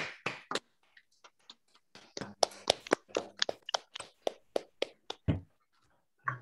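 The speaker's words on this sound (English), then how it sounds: "Let's unmute and try to clap in synchronized fashion" Members of an online audience clapping after a talk on noisy quantum devices: a quiet, ragged burst of individual claps, widely spaced and out of sync at first, then thicker, overlapping but still uneven, with a low background tone partway through.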